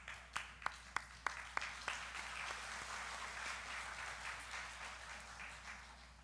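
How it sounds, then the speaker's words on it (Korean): An audience at a church special gathering applauds, opening with several sharp separate claps before settling into soft, steady clapping from a distance. "박수 한번 쳐주시죠."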